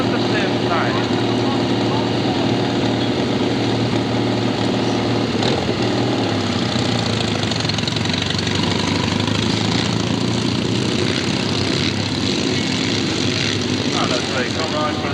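Triumph motorcycles rev hard at a jumping display at the Royal Welsh Show in 1985, their engines roaring continuously and loudly under a commentator's voice, with the pitch rising and falling as the riders open their throttles.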